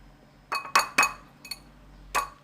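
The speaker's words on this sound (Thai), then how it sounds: "เราก็จะตอกไข่ไก่ ใส่ไปเลยนะคะ ใส่บนหน้าข้าวสวยนี่แหละ" Several sharp clinks and taps sound close by, chicken eggs knocking against a hard rim before a final crack over a bowl of rice, in an irregular rhythm.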